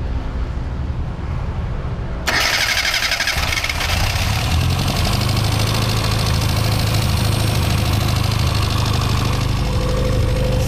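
A classic Mini engine with a Weber carburetor cranks and catches, then settles into a loud, lumpy idle with a raspy intake note that swells as it is revved, close by with no talking.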